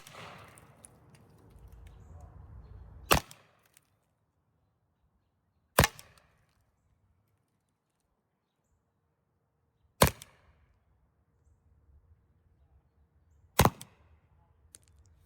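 An S2 launcher fires non-lethal chemical training rounds at a dummy: four sharp, loud pops spaced a few seconds apart, close by, with near silence between shots and some faint rustling at the start.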